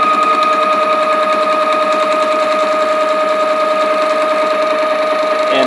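Texturing tool cutting into wood spinning on a lathe, a steady loud buzzing chatter with rapid regular pulses and sustained whine throughout, no speech.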